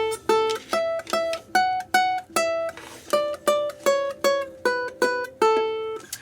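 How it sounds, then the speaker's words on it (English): Twinkle Twinkle Little Star is plucked on a ukulele, one clear note at a time on the first string, with a brief pause midway through the phrase. "we're gonna play a classic song here called Twinkle Twinkle Little Star"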